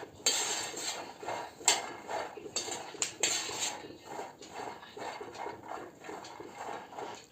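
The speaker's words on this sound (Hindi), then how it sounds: "बादाम फट रहा है, कुछ बादाम फट चुका है। पटपट की आवाज़ कर रहा है, तो समझिए कि बादाम रोस्ट हो रहा है।" Almonds dry roasting in a pan for sugar chikki, giving repeated light crackles and pops among scraping, clattering sounds close by, with no talk.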